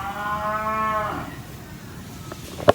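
A dairy cow lets out one long, loud moo lasting about a second. A quieter background and a brief click follow.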